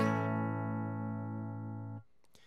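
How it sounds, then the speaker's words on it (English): A single sustained electric guitar note rings out cleanly and steadily for two seconds, then is cut off, followed by faint handling noises. "I should be able to hear a guitar"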